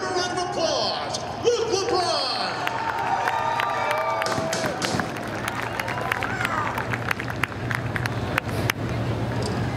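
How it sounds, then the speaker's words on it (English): A speedway grandstand crowd cheers and claps for the late model champion climbing out of his car, a loud, sustained roar with sharp claps and whistles, voices calling out amid the din. "Give him a round of applause."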